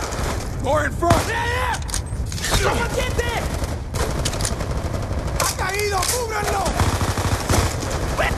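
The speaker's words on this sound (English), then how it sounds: "Gunshots came from inside." Automatic gunfire rattles in Call of Duty Black Ops 2 as loud, rapid fusillades of shots and booms, with voices speaking over the combat throughout.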